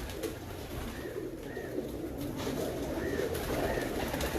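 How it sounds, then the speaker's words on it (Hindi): Royal Teddy pigeons coo softly several times in a loft, their low burbling calls fairly faint beneath a constant hiss of background noise. "ये सब टेडी कबूतर है"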